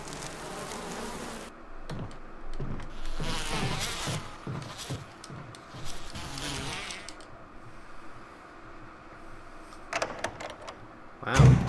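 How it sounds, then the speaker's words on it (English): Giant bees in the original Resident Evil, set in a zombie mansion, buzz loudly and close by in shifting waves over several seconds, with a few thumps and a sharp knock near the end. "Freaking huge bees."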